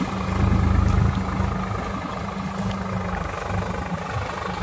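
A 50 hp Swaraj tractor in second gear at about 1000 RPM, pulling a large harrow through a field, gives a steady, close, low engine drone that lasts throughout the clip with no talk.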